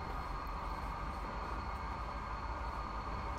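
Diesel trains race along the track in the Transport Fever simulation game, a steady low rumble of engines and rolling wheels that holds constant and fairly loud throughout.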